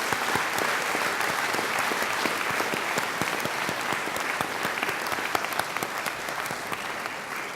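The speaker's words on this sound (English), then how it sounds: "give them a hearty round of applause." A graduation ceremony audience applauding, a dense, steady wash of many hands clapping that carries on loudly for the whole stretch without letup.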